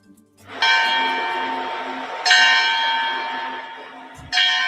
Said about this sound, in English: Bells at the Vatican